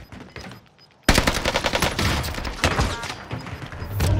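Near, loud bursts of automatic gunfire aimed at the player in the Call of Duty map Rebirth Island. After a quiet start the rapid shots break out suddenly, mixed with thuds and impacts.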